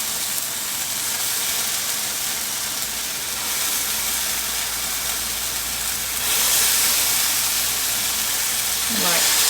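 Meatballs sear in a hot pan, giving a loud continuous sizzle and hiss that swells stronger partway through, with a brief faint vocal sound near the end.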